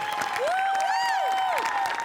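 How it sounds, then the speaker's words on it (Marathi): An audience applauding loudly and continuously at a Marathi comedy stage show, the clapping mixed with bright sweeping musical tones. "एकदा जोरदार टाळ्या माझ्यासाठी झाल्या पाहिजेत."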